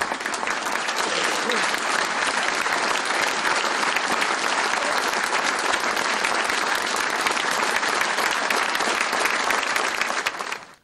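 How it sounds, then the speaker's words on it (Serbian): Long, dense applause fills a packed hall at a memorial service for actor Dragan Gaga Nikolić at Atelje 212 in Belgrade, sustained and even for about ten seconds before fading at the end. "Dugim aplauzom u prepunoj sali poslednji put pozdravili su velikog čoveka i glumca"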